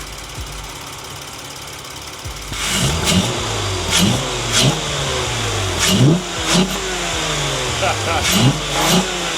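A car engine revving up and down in repeated bursts, rising and falling in pitch over a steady low rumble, fairly close and loud, with a brief spoken word from a person nearby.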